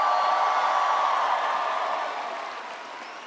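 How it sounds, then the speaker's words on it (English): Broad, steady applause from a large crowd at an outdoor political rally in Coral Gables, Florida, loud at first and slowly fading, with no talking over it. "Can everybody please give Lizzie a big round of applause for that great introduction?"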